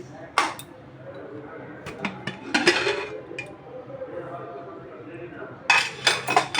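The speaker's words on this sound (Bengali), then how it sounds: "কুকারটা খুলছি" A pressure cooker being opened while mutton rezala with garlic and potatoes cooks, giving a few sharp metallic clanks and clinks of the lid and pot, close by and separated by quieter kitchen background.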